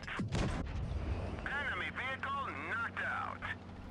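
A single heavy tank cannon shot in the World of Tanks Blitz video game booms loudly near the start. Layered battle sounds and a voice continue underneath afterwards.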